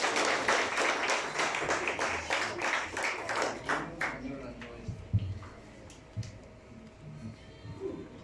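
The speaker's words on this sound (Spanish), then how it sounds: "Un aplauso." Church audience applauding at a diploma presentation, dense clapping for about four seconds that fades into scattered claps and low murmuring.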